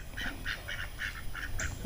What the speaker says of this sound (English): You guys just met Donald Duck.